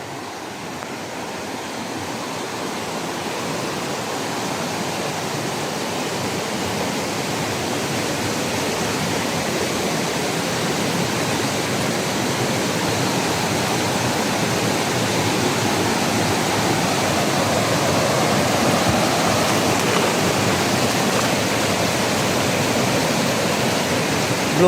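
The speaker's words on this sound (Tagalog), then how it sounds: "Blong-blong ang tubig oh." Floodwater rushes during Typhoon Uwan in Mindoro, a loud, continuous broadband roar of churning water that swells slightly over time, with no voices over it.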